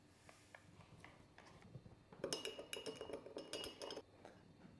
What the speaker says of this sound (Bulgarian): В отделна чашка в малка вода ще смеся синята боя.